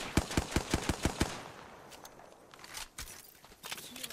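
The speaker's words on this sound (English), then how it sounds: "I'm shooting this team over here" Video game gunfire: a rapid burst of about seven sharp, evenly spaced shots up front, followed by scattered quieter shots and faint movement sounds.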